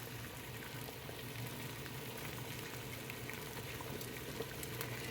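Water at a steady rolling boil blanches tomatoes in a pot, a quiet, continuous bubbling hiss with small pops and no one speaking.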